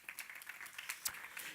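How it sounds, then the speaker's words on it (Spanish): A church congregation applauds during a Sunday morning service. The clapping is faint and distant, a steady patter of many hands. "Den un aplauso al Señor esta mañana."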